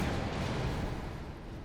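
A muffled explosion rumbles in Resident Evil 3, a single deep, broad boom that fades out over a second and a half with no voices.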